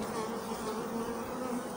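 Dense, steady drone of many honeybees buzzing around a hive during a summer honey harvest, continuous and close, with no pauses or talk.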